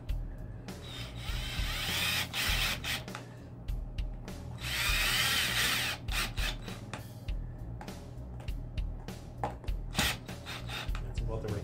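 A drill drives self-tapping screws into the wood of a Glarry P bass guitar body, giving close whirring and grinding bursts with short gaps between them.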